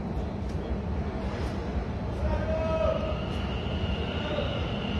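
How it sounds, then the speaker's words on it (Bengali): A Kolkata metro train pulls into the underground platform at Howrah station, a low sustained rumble that swells as it nears, with rising whining tones from its motors and brakes; a voice speaks over it. "মেট্রো ট্রেন আসছে, দেখুন।"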